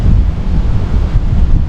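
Wind gusts over a lake during a bass fishing outing, roaring and buffeting steadily against the microphone as a continuous low rumble with no pauses.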